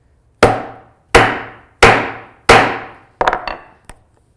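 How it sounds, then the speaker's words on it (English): A hammer strikes a metal grommet setter four times in a slow, even rhythm, with sharp, loud, close hits and ringing decay, then a few lighter, quicker taps. "You can just hold that nice and flat and then hit it with the hammer."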